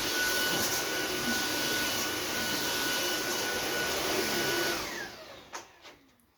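A Sauber Technic stick vacuum cleaner runs with a loud, steady whooshing roar at close range, then switches off and winds down in the last second and a half, leaving a few faint knocks.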